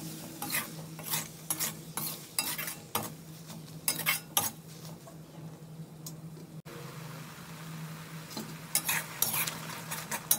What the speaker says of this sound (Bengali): তো একটু নাড়াচাড়া করে নেব।